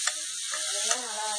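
Chopped onion and garlic sautéing in a hot pan for a mixed greens chutney, giving a steady close sizzle with a few soft stirring scrapes and no voices.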